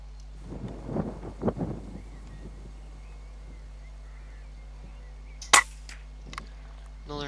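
An air rifle fires a single sharp shot at a rabbit about 35 yards away in a field, a brief crack standing out around the middle against faint wind and rustling outdoors.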